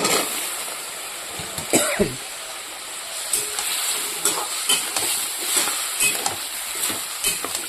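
Chopped vegetable stalks go into a pan of potatoes frying with chilli paste and a little water, giving a steady close sizzle with scattered stirring scrapes and a few sharper clatters near the start.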